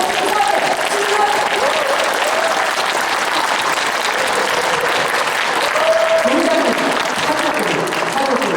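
A lecture audience claps in a sustained, loud round of applause, dense and even from start to finish, with a few faint voices beneath it.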